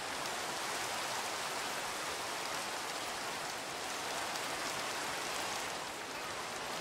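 Rain in Minecraft Pixelmon, a dense, steady hiss of falling rain spattering on surfaces, constant and even throughout with no other sounds.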